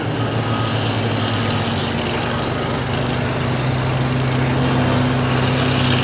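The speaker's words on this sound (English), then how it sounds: "that's one of the Mammolders tractors" A pulling tractor's engine roars loud and steady at a tractor and truck pull in Langford, New York, droning without a break and with no talking.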